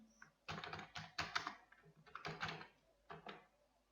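Quiet, close tapping on a computer keyboard while entering text into an Excel contact form: uneven clusters of soft key clicks with brief pauses between them.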